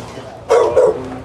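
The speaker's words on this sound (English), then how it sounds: "There's two more dogs in there. One come out. There's a pit bull around the side." A pit bull and other dogs inside a house give two loud, close barks in quick succession, followed by a softer tail of noise, with no talking.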